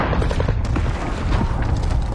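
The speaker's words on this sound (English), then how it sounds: "Airstrike target marked." Heavy booming explosions from a cluster airstrike in a battle royale video game, a dense, loud rumble of overlapping blasts and thuds that rolls on without a break.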